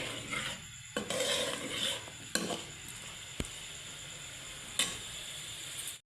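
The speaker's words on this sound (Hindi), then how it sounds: "अब हम घी के अंदर इसको फ्राई करेंगे तकरीबन 6 से 7 मिनट तक।" Chicken fries in ghee over medium-low heat, a soft steady sizzle broken by a few clanks of a utensil against the pan, ending abruptly.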